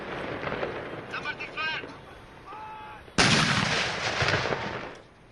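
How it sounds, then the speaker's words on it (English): Ceremonial 31-gun artillery salute in Dhaka on Victory Day morning, a loud sudden cannon blast with a long rumbling roar that slowly fades, preceded by outdoor crowd noise and faint voices. "The day began with the 31 gun salutes in Dhaka in the"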